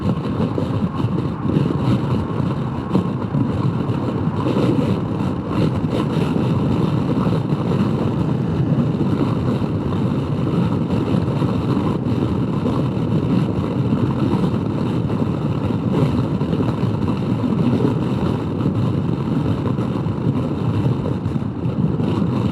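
Honda PCX150 scooter cruising on a highway at about 65 mph on two-thirds to three-quarters throttle, a steady loud roar of engine and wind buffeting that persists without a break.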